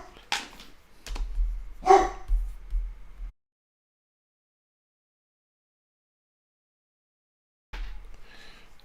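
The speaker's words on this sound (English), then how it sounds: "The dog hears somebody next to the door, and he usually goes off off on a tangent." A dog barks at someone near the door in a short burst of sharp barks and yips close by, then goes silent for several seconds before a brief faint return.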